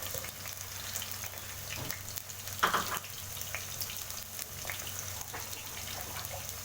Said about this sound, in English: you start by frying your onions.